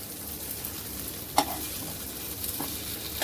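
Gravy warms in a pan, giving a soft, steady sizzle with stirring scrapes and a couple of sharper clinks of a utensil against the pan, moderately quiet and without talk.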